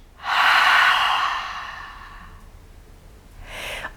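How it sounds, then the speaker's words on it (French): A long, audible breath blown out through the mouth during a seated back-health breathing exercise, fading slowly, followed by a shorter, softer exhale near the end. "Soufflez par la bouche."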